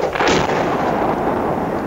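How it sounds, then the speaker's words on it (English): A big explosion from cave clearing roars up with a sharp loud blast and then a long rumbling wash of debris and echo that fills the space, with no voices. "That was a big explosion."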